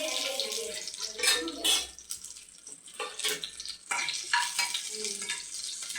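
Small shallots and garlic fry with mustard seeds in hot oil for an okra stir-fry, giving a loud, crackling sizzle with bursts of stirring and scraping throughout.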